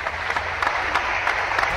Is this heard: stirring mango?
no